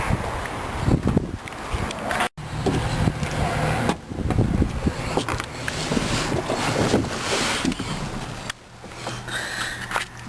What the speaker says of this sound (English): let's go ahead and start it up and let it run